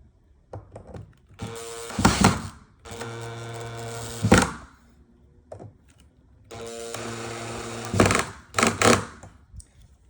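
A power screwdriver drives screws into a Fully Jarvis laminate standing desk during assembly, coming in several loud whirring bursts separated by pauses, with sharp knocks and clicks between them.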